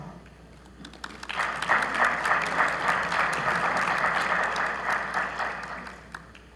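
An audience at a panel on energy storage regulation applauds warmly to welcome panelists onto the stage; the clapping swells after the first second, holds as a steady, moderately distant wash of many hands, then tapers off near the end.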